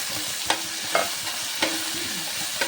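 Onions, green chillies, cashews and mint frying in biryani masala for paneer pulao: a steady hiss of oil under a few sharp spatula scrapes against the pan, close up and without speech.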